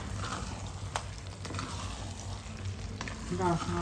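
Eggplant frying with chicken masala in a pan, stirred with steady scraping and a soft continuous sizzle, close and fairly quiet, with no talk.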